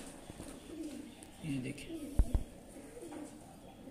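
Pigeons at a breeder's loft in Kasur cooing softly with low, throaty calls, while someone speaks over them and a couple of sharp knocks sound in between.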